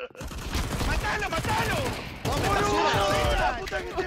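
Full-auto gunfire in a video game, rapid dense bursts of shots running nearly continuously and loud, with voices talking over them.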